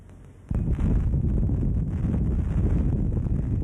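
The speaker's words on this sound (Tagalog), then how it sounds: "Pumipito ang napakalakas na hangin na dala ng bagyong Pedring." Strong typhoon wind from Typhoon Pedring (Nesat) on a Quiapo, Manila street bursts in suddenly after a brief quiet and roars loudly, buffeting and rushing with a gusty, blustery rumble.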